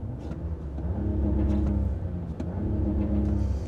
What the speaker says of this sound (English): the engine itself, when it first starts up, doesn't really sound all that special.